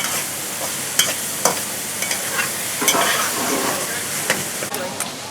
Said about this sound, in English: I'm going to cook this out until it's like dry.